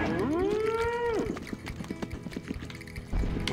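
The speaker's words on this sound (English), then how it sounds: "We can hit the cow, yes!" A cartoonish cow moo in the video game Conker's Bad Fur Day, one long drawn-out low call at the start, followed by clattering clip-clop hoof-like footsteps and game noises.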